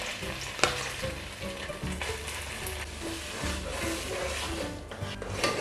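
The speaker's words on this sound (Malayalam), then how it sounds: "ആ നെയ്യിൽ കിടന്ന് ഈ പരിപ്പൊന്ന് വരണ്ട് വരട്ടെ" Cooked dal fries in hot ghee for a jackfruit payasam, giving a steady close sizzle with crackling bursts and a few scraping stirs of the spoon against the pan.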